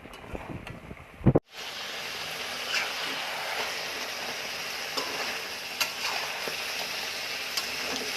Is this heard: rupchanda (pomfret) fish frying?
yes